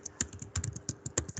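Typing on a computer keyboard: a quick run of about a dozen light, close key clicks in an uneven rhythm, with no voice.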